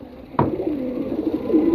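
A pet pigeon from a home loft collection coos close by: a sharp onset, then a low, steady throaty coo that rises and falls for under two seconds, with no voices.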